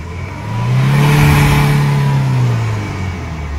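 A 2019 Maruti Ertiga with the 1.5 L diesel engine revs once, rising smoothly from idle, holding a loud, near drone for about two seconds and then settling back, heard alone without talk.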